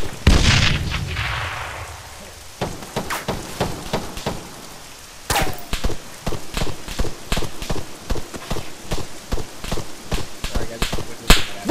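Gunfire and explosions in a military video game, with a grenade blast at the start followed by a steady stream of sharp, close shots in irregular bursts.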